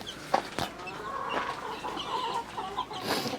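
A broody hen clucks in low, soft repeated notes, with a few sharper calls nearby and faint background noise.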